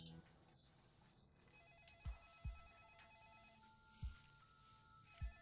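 A mobile phone rings indoors with a repeating electronic melody as a call from mom comes in. The ringtone sounds fairly faint and is broken by several dull low thumps.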